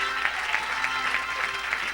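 A church congregation applauds for Jesus after a stroke healing, a steady wash of clapping with rhythmic swells roughly every third of a second, sustained and fairly even throughout.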